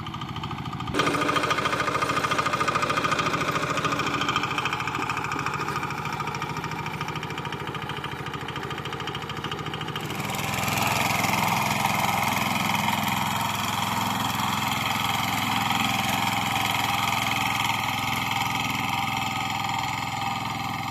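A power tiller's engine runs steadily in a field on its first day out, a continuous loud chugging drone that grows rougher and louder about halfway through as it works, with no one speaking.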